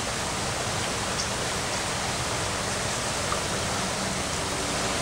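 Flooded Carroll Creek, normally a tiny stream, rushes past in a loud, steady roar of churning water with no pauses.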